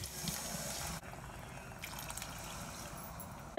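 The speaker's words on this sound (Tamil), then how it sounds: "அதுக்கு 2 டம்ளர் தண்ணி விடணும்." Water is poured into a pot of rice and red cowpeas, a steady close splashing trickle that briefly breaks off and then resumes for a few seconds.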